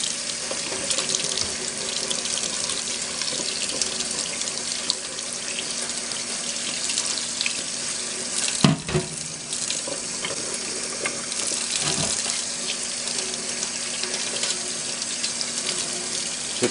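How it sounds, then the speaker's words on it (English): Tap water runs steadily into a sink to rinse off a wet sewing machine motor, a close, constant splashing flow with a couple of brief knocks partway through. "Let's get a little water going."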